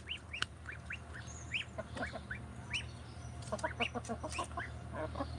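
Several laying hens cluck in short, repeated bursts, some overlapping, over a steady low background hum.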